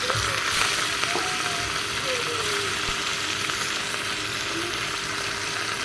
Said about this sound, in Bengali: এই যে মাছগুলো এরকম কড়া কড়া করে ভেজে নিচ্ছি।